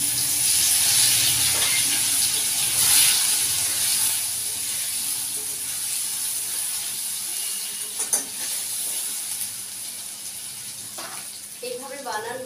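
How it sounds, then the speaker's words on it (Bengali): Potato pieces coated in turmeric fry in hot oil, giving a steady, loud sizzling hiss that runs through the whole stretch, with a few stirring scrapes near the end. "আলুটা একটু হলুদ মাখিয়ে নিচ্ছি, আমি হলুদ মাখিয়ে নিয়ে ভাজছি।"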